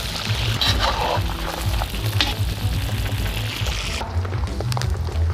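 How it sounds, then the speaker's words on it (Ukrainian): Rabbit meat fries in hot oil in a kazan with a steady, close sizzle and crackle. Brief stirring noises come and go. "Після того, як олія добре розігрілась, додаємо краля."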